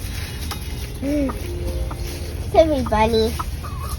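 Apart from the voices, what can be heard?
chickens clucking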